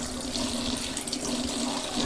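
Tweezers held under a running kitchen or bathroom tap, with water streaming steadily into a sink in a continuous close splashing hiss and a faint tonal hum beneath.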